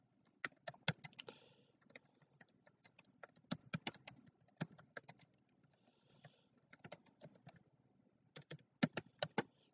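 Keys on a computer keyboard clatter in quick, uneven bursts separated by short pauses, soft and close, in an otherwise quiet room.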